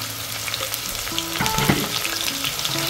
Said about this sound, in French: maintenant je vais faire revenir les oignons